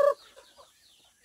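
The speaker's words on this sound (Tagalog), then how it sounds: "Ayan, may manok din dito sa loob" Native chickens on a farm give a short, sharp cluck at the start, then softer scattered clucks and chirps follow faintly in the background, with no talk.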